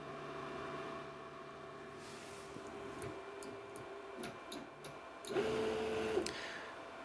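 An old 3D printer running Klipper with upgraded stepper drivers runs a simple print steadily, with a low mechanical hum, soft ticking clicks, and a brief whirring motor movement near the end.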